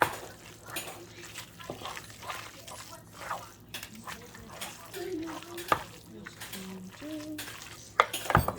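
Cheesy chicken bacon ranch pasta being stirred in a crockpot, spoon scraping and clinking against the pot with wet, sticky squelches, close and moderately quiet, irregular strokes with a few sharper knocks.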